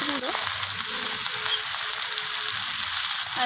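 Ground turmeric and other spices going into vegetables frying for a Bengali chachchari of katla fish head and Malabar spinach, with a steady close sizzle and faint stirring throughout.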